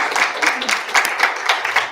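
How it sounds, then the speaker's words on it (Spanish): A group applauds at the close of an education talk, producing brief dense clapping with rhythmic bursts, fairly close and loud. "vamos a agradecerle primera cosa y darle un aplauso también"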